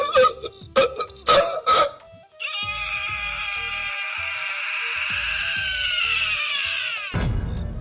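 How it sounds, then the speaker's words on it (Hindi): A sustained, strained high scream rises after a few sharp gasping bursts, holding loud for several seconds before cutting off abruptly. "रेडियो से अचानक खुद कबीर की साफ दर्दनाक चीख और हेडफोन के तार से गला घुटने की आवाज आने लग"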